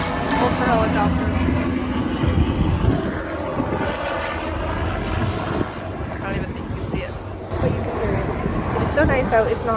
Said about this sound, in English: Hold for helicopter.